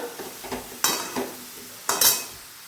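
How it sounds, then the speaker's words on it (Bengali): A spoon stirs bottle gourd curry in a pan, a handful of separate scraping and clinking strokes with faint sizzling between them, close and fairly quiet. "এটাকে নাড়াচাড়া করে রান্না করব।"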